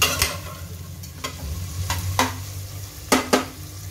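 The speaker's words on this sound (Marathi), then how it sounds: "मिडियम गॅसवर आपल्याला कांदा भाजून घ्यायचा आहे तेलामध्ये।" Chopped onion frying in oil in a pan over medium gas heat, a steady low sizzle broken by a handful of sharp scraping strokes as it is stirred, close and moderately loud.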